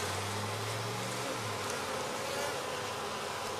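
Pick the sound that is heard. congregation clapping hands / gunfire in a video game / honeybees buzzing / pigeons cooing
honeybees buzzing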